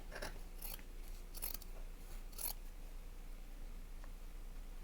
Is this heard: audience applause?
no